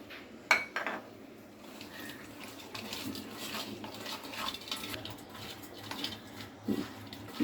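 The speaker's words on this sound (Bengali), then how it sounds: "ফার্স্টে আমরা হলুদ লবণ দিয়ে মাছটা মাখিয়ে নিব।" Fish being rubbed with turmeric and salt in a bowl, close soft squelching and handling with light clinks of a dish; no talking.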